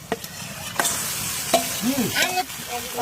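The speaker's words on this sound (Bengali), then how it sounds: "এইবার কিন্তু মেরিনেট করে নেওয়া মাটনটা দিয়ে দিচ্ছি" Marinated mutton goes into a pan of golden-brown fried onions and sizzles steadily, with a few sharp clanks of stirring over the hiss and some faint tonal sounds in the background.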